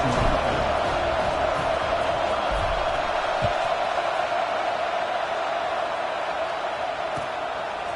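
Football stadium crowd at an Oregon versus Alabama game, a subdued, steady murmur and wash of a large crowd after the opponent's scoring drive, with faint scattered shouts and a thump or two.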